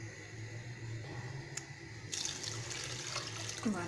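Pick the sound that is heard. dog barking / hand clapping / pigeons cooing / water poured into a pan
water poured into a pan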